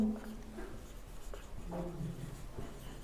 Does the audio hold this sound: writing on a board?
yes